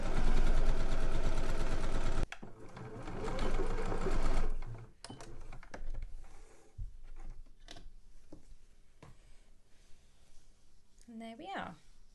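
A sewing machine stitches a Christmas stocking around a curve, running in a loud continuous whirring burst, then in shorter stop-start runs as the fabric is turned, with a person talking over the later part.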